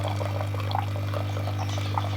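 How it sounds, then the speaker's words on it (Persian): Plain water pours from an espresso machine's group head with no portafilter attached, a continuous splashing stream over a steady low pump hum, close and fairly loud. "ببین آب من ریختم"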